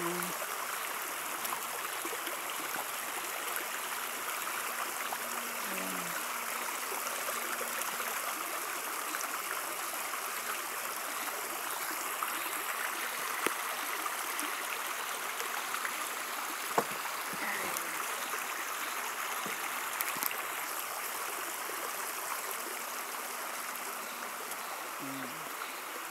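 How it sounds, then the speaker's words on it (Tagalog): A shallow stream runs over rocks outdoors: a steady, close, broadband rushing and babbling that continues without a break, with a few faint knocks and distant sounds beneath. "Puro bato yan. Sapa na ito."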